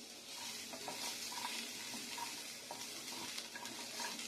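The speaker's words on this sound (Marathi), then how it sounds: "तर आता आपल्याला कांदा देखील चांगला भाजून घ्यायचा आहे।" Onion roasts in a pan for masvadi curry, with a soft continuous sizzle and repeated light stirring scrapes close by.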